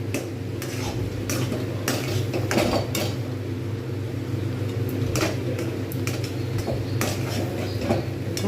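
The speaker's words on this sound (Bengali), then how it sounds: "আমাকে কিন্তু এটাকে নাড়তে হচ্ছে" Roasted rice being stirred in a pan for homemade rice laddu, with a spoon scraping and clinking against the metal in irregular strokes over a steady low hum.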